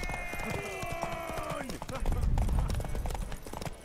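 Rapid hoof clip-clops of a trotting horse in a video game, rhythmic and close, with a sustained tonal voice or whinny early and a low rumble midway.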